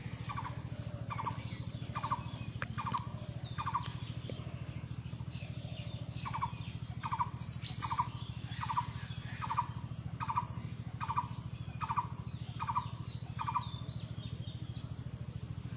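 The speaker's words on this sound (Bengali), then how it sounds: "এই পাখির ডাকগুলো আপনাদেরকে শোনানোর জন্য চুপ করে থাকি" A bird calls repeatedly in a steady rhythm of short, mid-pitched notes, with a few higher chirps in between, over a constant low engine-like hum.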